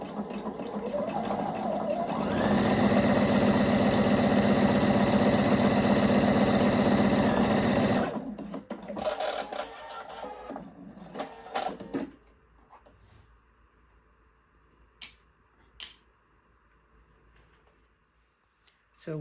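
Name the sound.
sewing machine stitching a pinned edge of shorts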